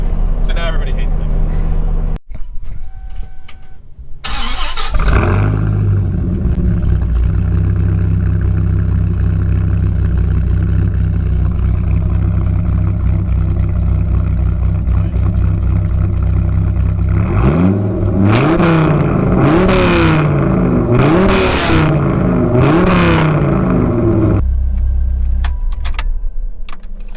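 A 1997 Dodge Viper GTS engine fires up and idles with a deep, steady rumble, then revs in a series of quick rising and falling blips before cutting off; keys jangle near the start.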